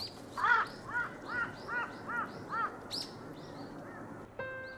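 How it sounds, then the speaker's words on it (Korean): A crow caws near a group of eagles, giving a series of six or so evenly spaced, fairly close, harsh calls, followed by a few fainter bird calls. "괜히 옆에 와서 시비를 걸어보는 까마귀"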